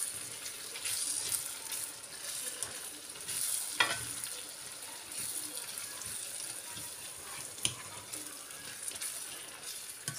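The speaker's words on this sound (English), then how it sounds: "let's allow our sausage, onions, and tomatoes with the ingredients to fry for like a minute or 2 minutes" Sliced sausage, onions and tomatoes fry in a pan while being stirred, a soft steady sizzle with scraping and stirring noises close by, no talking heard over it.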